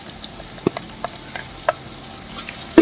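Crushed garlic and ginger paste fries in hot oil for a fish head curry, giving soft scattered pops and crackles over a faint, low sizzle, with one sharper spatter near the end.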